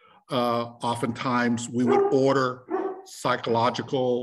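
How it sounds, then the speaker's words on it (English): Dogs bark in the background of a home setting, their yips and woofs partly masked by continuous close speech from someone talking throughout. "excuse me, my dogs are barking here."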